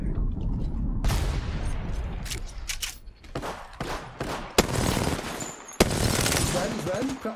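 Automatic and single gunfire from Apex Legends ranked play rattles through in dense bursts, with sharp loud cracks near the middle and end, while a voice talks over the shooting.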